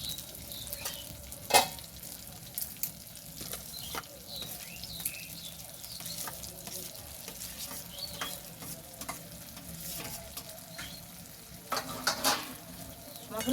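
Fried potatoes stir-fried with spice masala in oil give a continuous sizzle broken by frequent spatula scrapes and clacks against the pan, close and moderately loud throughout.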